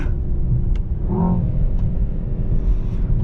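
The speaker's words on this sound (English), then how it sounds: "very, very cool turbo noises" Deep, steady engine rumble from a Mercedes S63 AMG E-Performance V8 hybrid turbo, heard from inside, with a brief rising whir of turbo spool in the middle.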